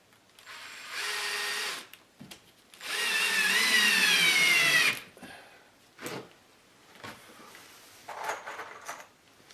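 A power drill drives board screws into a mobile home ceiling during repair work, with two separate bursts of whining motor, one short and one longer, followed by quieter knocks and handling noises.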